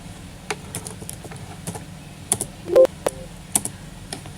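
Sparse keystrokes on a computer keyboard as a name is typed into a payroll spreadsheet, isolated clicky taps spaced irregularly over a steady low hum, with one louder knock partway through.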